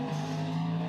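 A Ford Mustang GT3 race car at Le Mans gives a brief, steady engine drone with a strong low tonal hum, sounding close and sustained for about a second.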